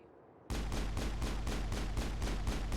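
Rhythmic gunfire in the Mass Effect video game, with heavy evenly spaced shots, about ten in quick succession, starting abruptly after a short quiet moment and loud and close throughout.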